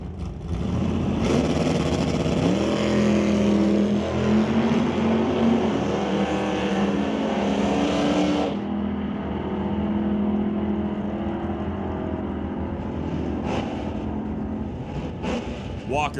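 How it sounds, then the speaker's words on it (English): Two drag race cars, a Chevrolet Chevy II and a Nova, roar loudly down the strip side by side at a Pro race. The engine noise holds steady for several seconds, then fades into a lower, more distant rumble. "The Preston Chevrolet Chevy 2 racing against the Ritchie Racing Engines Nova."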